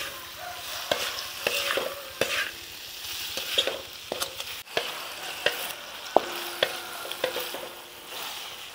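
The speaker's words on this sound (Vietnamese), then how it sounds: "Mực mình nêm xong rồi mình xào nãy giờ cũng được rồi." Seasoned fresh squid is stir-fried in a pan, a close sizzle with repeated sharp scrapes and knocks of a utensil against the pan at an irregular rhythm, no talking.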